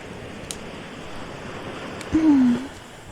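Ocean waves wash as a steady, broad surf hiss throughout, moderately loud and close, with a short tonal hum rising briefly near the end.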